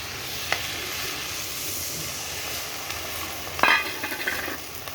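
A pan of spicy ghugni made with raw peas is stirred, giving a steady close sizzling hiss with a couple of sharp scrape clicks from the spoon, one louder knock near the end.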